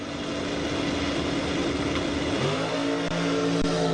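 A big old station wagon accelerates down a drag strip at an ET finals event, a loud sustained engine roar with rising tones as it pulls hard through the gears.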